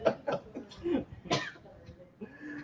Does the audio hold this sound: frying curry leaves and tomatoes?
no